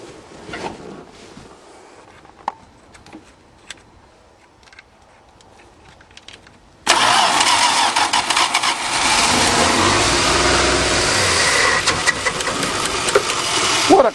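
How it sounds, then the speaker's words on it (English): A 1977 Dodge van engine cranks and fires abruptly after quiet preparation, then settles into a loud, steady running roar that continues to the end. "Only a Chrysler could start that good."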